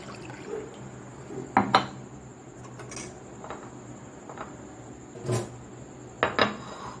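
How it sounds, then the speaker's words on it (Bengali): Coconut water pours into a glass for a drink, a soft, quiet trickle with a few light clinks against a faint background hiss. "প্রথমে ডাবের জলটা দিয়ে দিলাম"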